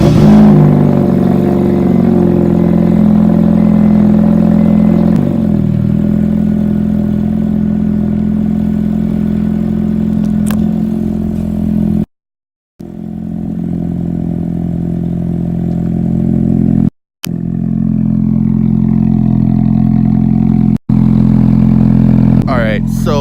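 A Honda Civic engine turns over on a cold start and settles into a loud, steady idle with a low rumbling hum, broken by a few brief dropouts, with no talk over it.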